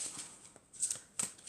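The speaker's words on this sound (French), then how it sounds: "je vais prendre des cartes de l'oracle des anges et des cristaux" Oracle cards of angels and crystals are shuffled by hand in short, crisp riffling bursts, close and fairly quiet, with brief pauses between them.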